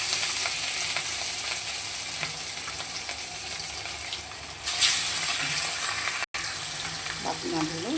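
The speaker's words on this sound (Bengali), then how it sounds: "মাছগুলো তুলে নিয়েছি, এবার বাকি মাছগুলোকেও ভেজে নেব।" Fish pieces deep-frying in hot oil give a steady, loud sizzle throughout, with a brief burst of spattering near the middle and a few clinks of a utensil toward the end.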